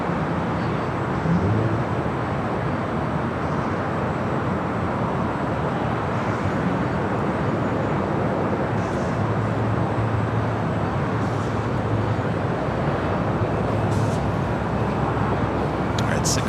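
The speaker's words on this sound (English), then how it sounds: "that was the Southwest Airlines Flight 2038 heading to Albuquerque" A Southwest Airlines Boeing 737-700 jet airliner passes at LAX, heard as a steady, loud broadband roar that holds evenly throughout with no clear rise or fade.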